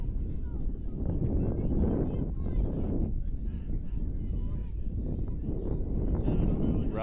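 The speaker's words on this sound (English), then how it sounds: "Wind really picking up even more now, gusting at its highest point." Strong gusting wind buffets the microphone at an outdoor ultimate frisbee game, a constant loud low roar that swells in waves throughout.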